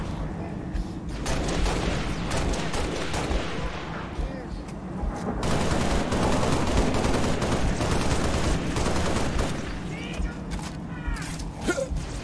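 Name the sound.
turret gunfire in Halo Reach video game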